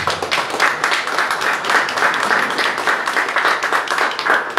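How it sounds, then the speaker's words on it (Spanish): Audience at a parish government accountability meeting applauding the president, dense steady clapping from many hands filling the room throughout, with little speech. "Le damos un aplauso al señor presidente."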